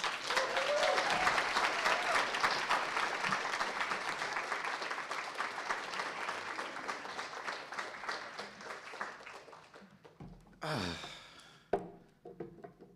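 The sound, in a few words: audience applause welcoming a speaker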